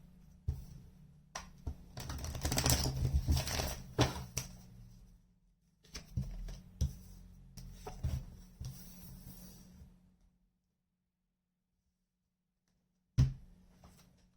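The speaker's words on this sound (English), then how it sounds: "One more shuffle." Tarot cards being shuffled close by in bursts of rapid riffling and flicking, a long pause of near silence, then a single sharp tap.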